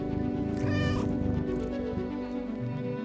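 A cat meows inside a video game, one loud drawn-out tonal meow near the start followed by softer mewing over a busy layer of game music and ambience.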